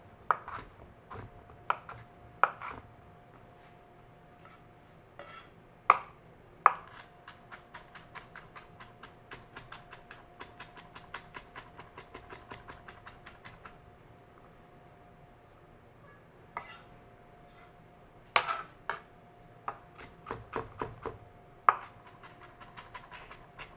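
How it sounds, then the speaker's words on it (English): A knife finely chopping seeded chili peppers on a board, with clusters of quick rhythmic taps broken by pauses and a few sharper knocks, close and clear with no talk. "I'm going to give them a finer chop now."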